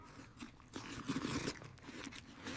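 A man is fed by spoon and chews hurriedly, giving moist crunching and biting sounds at close range across a busy, noisy background with short bursts of activity.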